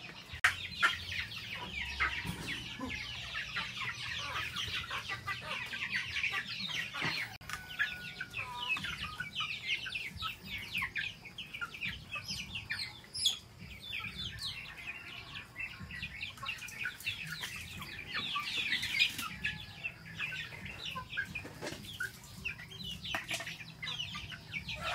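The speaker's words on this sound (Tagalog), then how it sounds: "So guys, so magpapakain tayo ng manok na yun." Backyard chickens in rural Pangasinan cluck and chatter steadily while being fed, with many overlapping clucks and small chirps forming a dense, continuous flock sound close by and without talk.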